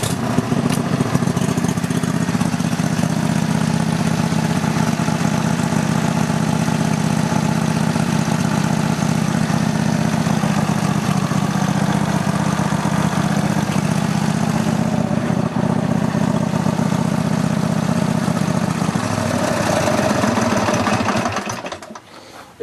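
A Roper riding lawn mower engine, fitted with a non-original muffler, idles steadily and loudly with a constant drone for about twenty seconds before cutting off at the end.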